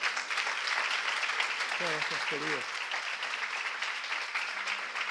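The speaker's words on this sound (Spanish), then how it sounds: "me gustaría, ¿no?, que dieras un fuerte aplauso a nuestro técnico" An audience at a live talk show gives a round of applause for the technician, a steady wash of clapping throughout, with someone briefly speaking in Spanish over it.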